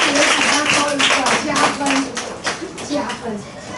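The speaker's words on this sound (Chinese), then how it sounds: "好，这一组讲得很好，请掌声。" Classroom applause for a student group's presentation at a primary school, a short burst of many hands clapping that fades over a few seconds, with a teacher's voice speaking over it.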